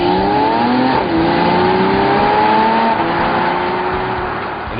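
A 2009 Porsche Boxster S with a PDK dual-clutch gearbox accelerates hard, its engine note climbing steadily and dropping sharply at a quick upshift, then rising again, loud and close throughout.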